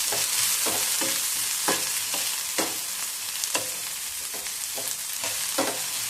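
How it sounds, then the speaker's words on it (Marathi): Finely chopped onion sautés in a pan for a drumstick and potato curry, under a continuous bright sizzle broken by regular, close stirring scrapes. "त्यामध्ये बारीक चिरलेला कांदा घालायचा आहे, तोही अगदी परतवून घ्यायचा आहे।"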